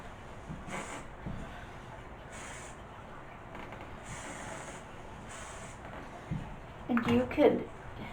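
Hairspray is sprayed onto hair in several short, airy hissing bursts with pauses between them, followed by a brief voice near the end.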